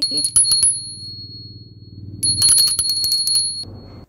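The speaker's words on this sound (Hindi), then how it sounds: "ये सबसे बड़ा घंटा इस घंटे को बजाने से आ जाएगी" A large toy bell rings in repeated bursts of bright metallic dings, close by, in two clusters with a pause between them, with low voices underneath.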